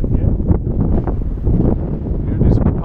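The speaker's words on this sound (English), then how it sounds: "Is that just the wind sound then?" Steady broadband wind rumble buffets the microphone throughout during a glider flight, loud and constant with gusty swells, low roar dominating.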